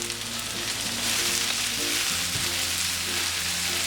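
Onions sauté over a high flame for beef varattiyathu, giving a dense, even sizzle and crackle close by that holds steady throughout, with a few low tones beneath and no talking.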